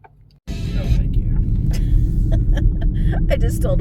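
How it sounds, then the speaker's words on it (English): Cars passing on a road near a lake, recorded from inside a moving car, with a loud, steady low rumble of road and engine noise and a faint voice over it. "there's cars coming."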